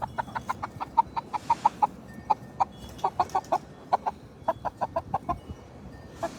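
Several chickens clucking close by on a farm, a steady run of short, rhythmic clucks repeating throughout with brief pauses, fairly loud and with no talking.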